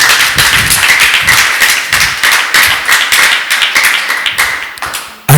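A church congregation claps hands together in a fast, steady rhythm, many sharp overlapping claps filling the room, loud and close, with no talking over them.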